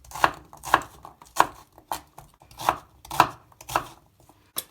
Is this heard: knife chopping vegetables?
yes